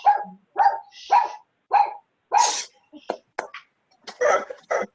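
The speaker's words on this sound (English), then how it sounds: "sounds like somebody excited for the virtual dog walk" A dog barks excitedly in a quick, irregular series of sharp, close barks and yips, some clipped and some drawn out, with no talking.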